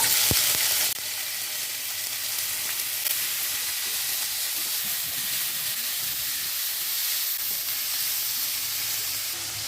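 Onion and garlic hit hot oil in a pan for a bean stir-fry, a loud burst of sizzle at the start settling into a steady, close hissing fry that continues evenly.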